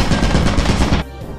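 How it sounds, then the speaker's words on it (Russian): Turret machine gun in Lethal Company spraying a loud, rapid, close burst of automatic fire for about a second before cutting off abruptly. "Турель!"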